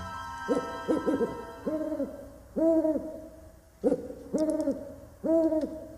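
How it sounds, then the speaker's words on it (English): An owl hoots far off in nighttime woods, a series of hollow, tremulous hoo-hoo calls in uneven clusters, clear against a quiet background with no voices. "There was an owl way off, hoo-hooing as if somebody was dead."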